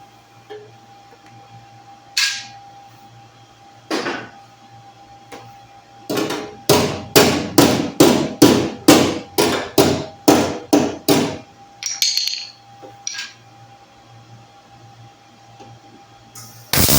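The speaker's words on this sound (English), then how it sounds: "at times you may have to take a body hammer" A body hammer strikes a 1965 Ford Mustang body panel in a rapid run of about ten sharp, ringing metallic blows, with a few isolated taps before and after in a quiet shop.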